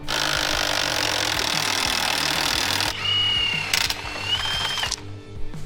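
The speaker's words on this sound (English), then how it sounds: "I want to attempt to pull these motor mounts out with the stubby half-inch gun" A stubby half-inch impact gun rattles on a motor mount nut, a loud continuous hammering burst close by, then quieter short bursts with pauses and clanks of tools.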